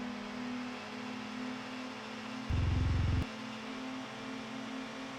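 Peugeot 306 touring race car engine in ToCA World Touring Cars, a steady droning mid-range engine note held close and loud, with a brief heavier low rumble swelling in the middle before the drone continues alone.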